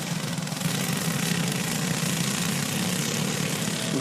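Sprint karts race away at the green flag of a 15-lap feature event at the Sprint Kart Speedway, their engines merging into a dense, steady roaring drone.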